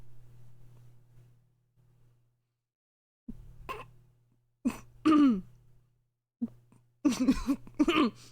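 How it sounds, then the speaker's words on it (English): Several short throat-clearing coughs from one person, close and fairly quiet, in separate bursts over a low steady hum, ending with a quick run of coughs. "Sorry, I've got a little cough."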